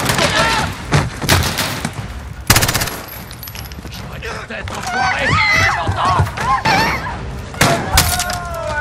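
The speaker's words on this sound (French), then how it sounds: "Les coups de feu" Bursts of gunfire in Call of Duty Modern Warfare, several sharp loud shots and volleys, mixed with shouting voices and chaotic battle noise.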